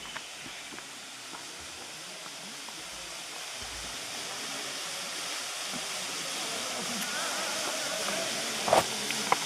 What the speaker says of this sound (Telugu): మనం వాటర్ ఫాల్స్ గారి దగ్గరకు వచ్చేసాము